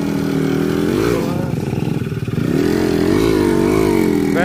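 A motorcycle ridden along a rough, extreme forest trail on the way to work, its engine droning loud and close with rising and falling revs, a brief dip mid-way, and clatter from the bumpy ground.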